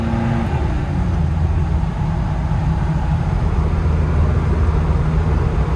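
A 1974 BMW E9, being checked for problems, idles with a steady, loud, even engine drone, close and unbroken throughout.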